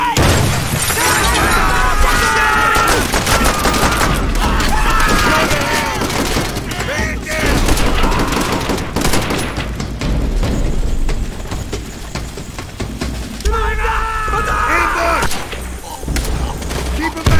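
Battlefield chaos from Call of Duty: World at War: rapid gunfire and a grenade blast mixed with shattering crashes, loud and dense for the whole stretch, with shouting voices and other game sounds layered over it.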